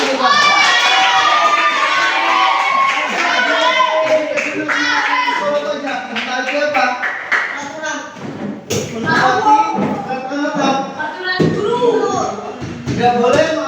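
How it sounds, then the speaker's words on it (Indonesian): Children clap in a school classroom during a lesson, a quick burst of hand claps mixed with thumps and excited voices, with a teacher's speech running over much of it. "Tepuk tangan dulu, Pak."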